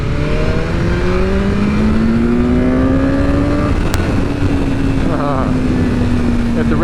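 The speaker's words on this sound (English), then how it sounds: "Hit the rev limiter there." A 2021 BMW S1000R motorcycle engine revs hard and rises toward the rev limiter, its pitch climbing steadily before dropping back to a loud sustained drone, close and continuous throughout.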